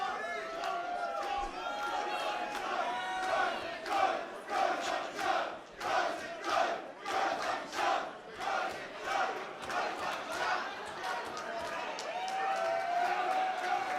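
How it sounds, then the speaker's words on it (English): Wrestling crowd at a DEFY event chants in a steady rhythmic pattern, punctuated cheers pulsing roughly every second, moderately distant, with a commentator talking over it. "Nice reaction for Robbie Eagles in the crowd"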